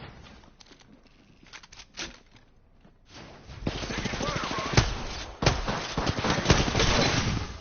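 Enemy gunfire in Apex Legends, a battle royale game: scattered single shots early, then a loud, sustained burst of rapid automatic fire with sharp peaks close by.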